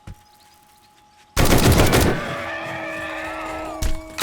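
Turret firing in the 7 Days To Die zombie survival game: a sudden loud burst of rapid automatic gunfire cuts in after quiet, then rings on into a tonal drone, with another brief burst near the end.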